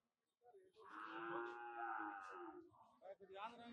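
A buffalo at a Hyderabad cattle market lets out a long, low moo lasting a few seconds, close by and fairly clear, followed by a shorter second call.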